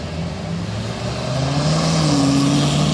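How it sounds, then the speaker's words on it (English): A Chevrolet Corvette engine at a car show rises in a steady, fairly loud rev, pitch climbing and holding over a low droning rumble amid outdoor crowd background. "It's a quiet ass Corvette."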